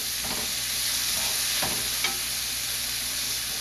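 Kimchi being stirred with pork fat in a hot frying pan for kimchi fried rice: a steady close sizzle with a few soft scraping strokes of the spatula, no talking.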